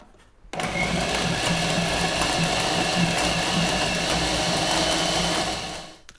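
A food processor blends flour and cold butter for shortcrust pastry, starting abruptly into a loud, steady, dense whirring drone that holds for about five seconds before winding down.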